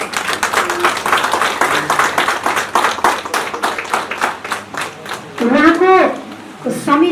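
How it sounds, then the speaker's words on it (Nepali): A crowd applauds at a rural municipality assembly, steady rapid clapping from many hands filling the hall for several seconds before a speaker's amplified voice cuts in near the end. "ताली बजाएर उहाँलाई समर्थन जनाउन अनुरोध गर्दछु"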